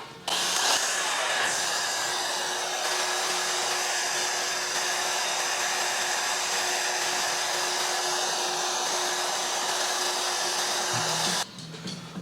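A hair dryer blows steadily up close on spritzed hair during a low drop fade haircut, a loud continuous whooshing roar with a faint whine that cuts in near the start and switches off near the end, no talk.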